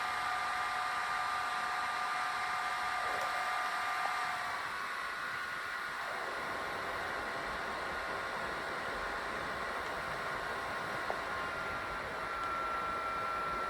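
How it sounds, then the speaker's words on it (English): Steady whirring fan noise from an AAXA P7 Plus projector, a constant airy hiss that holds level throughout, with a slight shift in pitch partway through and nothing else over it. "I didn't find the fan noise on the AAXA P7 Plus to be a problem"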